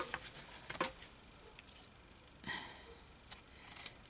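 Scissors cutting through recycled material while making a vintage-style bag: a few quiet, scattered snips and crisp rustles, close but faint, with pauses between cuts and no talk.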